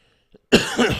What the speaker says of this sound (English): Excuse me with all of my coughing and nastiness there.